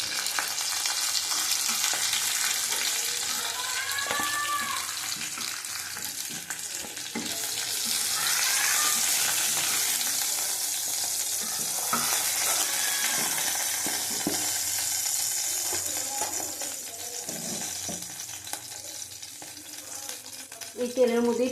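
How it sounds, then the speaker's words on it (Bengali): Katla fish pieces fry in hot oil with a loud, steady sizzle and crackle that carries on throughout, with faint kitchen clatter and a few brief voices in the background. "দেখো, মাছ ভাজা হয়ে গেছে,"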